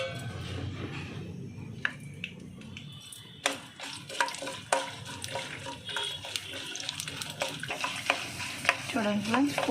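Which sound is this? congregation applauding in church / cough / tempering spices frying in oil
tempering spices frying in oil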